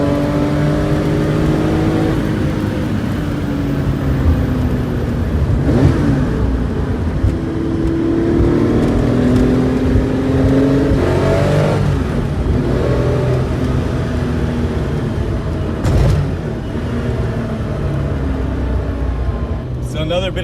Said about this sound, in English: So go ahead and give it a big blip whenever you get a downshift